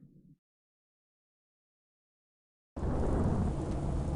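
Rain in the video game Star Wars Galaxies starts abruptly after a silent gap, a dense, loud, steady rush of falling rain with a low rumble underneath and no voices.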